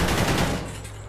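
A short rapid burst of video game gunfire, loud and close, dense at first then tailing off into a ringing decay.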